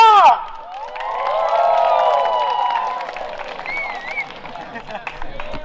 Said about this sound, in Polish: Uwaga, brawa dla Mateusza!